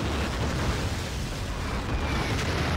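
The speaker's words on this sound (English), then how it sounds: "Artillery landing from Oldies." Artillery shells land in Battlefield 2, producing a continuous heavy rumbling roar of explosions with deep low boom, loud and sustained without clear breaks.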